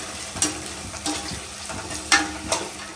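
Onions frying in oil in a pan for a tandoori chicken and Hyderabadi dum biryani meal, a steady close sizzle with a few louder stirring scrapes at intervals, no voices.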